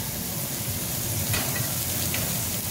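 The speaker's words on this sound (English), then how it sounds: "Got some garlic grilling on there." Garlic sizzling on a Korean barbecue grill beside pork belly, a continuous close frying hiss with a few faint clicks, no talking.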